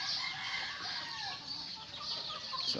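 Several white chickens cluck and squawk close by, a busy overlapping chatter of fowl with no talking.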